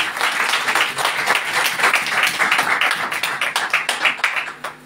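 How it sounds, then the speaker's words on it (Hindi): A congregation at a special Friday worship service during fasting claps loudly and steadily. The clapping is fairly rhythmic and sustained for several seconds, with no talking over it. "खुदावन के नाम के लिए जोरदार तालियां बजाएं।"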